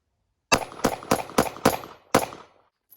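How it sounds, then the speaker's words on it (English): Six sharp Glock pistol shots from a Shield Arms S-15 magazine loaded with Federal HST 147 grain rounds, fired in a quick, slightly uneven string, each crack loud and close with a short ringing tail. "All right, gonna shoot the remainder of the rounds."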